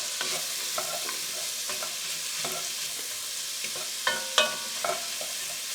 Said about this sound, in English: we're just going to saute them in that rendered bacon fat